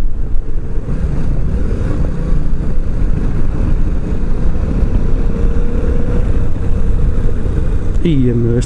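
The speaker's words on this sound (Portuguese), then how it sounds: "este ronquinho é brutal" A Yamaha Tracer 700 motorcycle rumbles continuously on a test ride, loud and close, with wind buffeting the microphone. A rider talks over the engine throughout.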